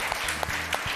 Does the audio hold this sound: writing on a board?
no